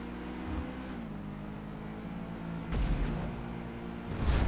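A car in GTA Online drives steadily with a constant engine drone, swelling briefly as it revs and bumps along, loud and continuous with no talking.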